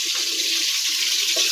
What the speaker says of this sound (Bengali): বন্ধুরা পানি নিয়ে নিতেছি